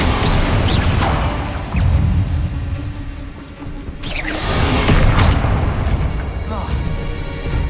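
A fire spell cast in Hogwarts Legacy bursts out in loud whooshing flares amid heavy booms and crashes of ongoing magical combat, with a dense, continuous roar throughout.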